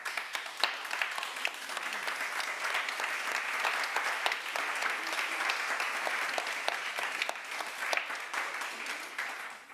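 An audience at a climate change governance conference in the Dolomites applauds steadily for several seconds, a dense even wash of many hands clapping, moderately loud and without talk.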